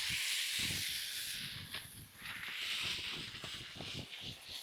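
Onion burgers sizzling on a hot griddle, a steady bright hiss with small crackling pops, moderately quiet and continuous, with no voices over it.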